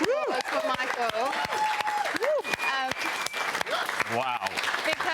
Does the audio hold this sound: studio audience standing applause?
yes